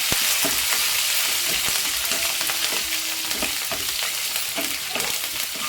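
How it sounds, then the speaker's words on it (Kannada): A generous amount of garlic and finely chopped green chillies fry in a pan for Andhra-style gongura pappu, giving a loud, steady, close sizzle with occasional stirring scrapes and ticks throughout. "ಸ್ವಲ್ಪ ಬೆಳ್ಳುಳ್ಳಿ ಸ್ವಲ್ಪ ಜಾಸ್ತಿನೇ ಹಾಕ್ಕೊಳ್ಳಿ ನೀಟಾಗಿ ಸ್ವಲ್ಪ ಫ್ರೈ ಮಾಡ್ಕೊಳ್ಳಿ"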